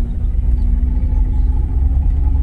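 A car engine rumbles steadily from inside the vehicle during a driving lesson, a loud, low, even drone with no clear rise in pitch and no talk.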